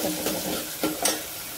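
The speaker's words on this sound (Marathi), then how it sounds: "टमाट्याला पण छान असं परतून घ्यायचं आहे फोडणीमध्ये।" Tomatoes are stir-fried in a tempering of oil and curry leaves, giving a close, gentle sizzle with a few distinct spatula scrapes against the pan.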